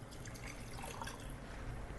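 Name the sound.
strained green water poured into a glass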